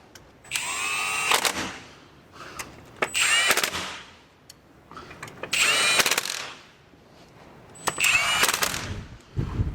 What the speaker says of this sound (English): We're going to torque them down real quick.